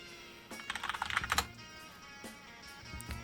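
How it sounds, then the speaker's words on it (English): Keys are typed on a Corsair K65 mechanical keyboard, with a fast, close burst of clicky keystrokes followed by a few scattered single presses, with no talk over them. "I'm going to do a little type test here so you guys can get an idea of how it sounds"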